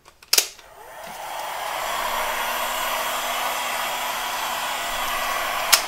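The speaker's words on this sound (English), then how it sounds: "I'm going to hit that with a dryer for a little while" A handheld dryer blows steadily on an altered book page, a continuous loud airy whoosh that starts after a couple of sharp clicks and runs unbroken to the end, with another click at the close.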